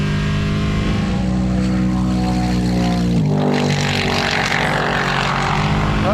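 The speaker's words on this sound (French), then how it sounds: "ce son du moteur quand même, le V8 là, c'est quand même assez incroyable" A Lexus RC F GT3 race car's V8 engine roars loud and close on a circuit straight, a dense sustained howl that climbs through the revs, drops with a gear change, then climbs again.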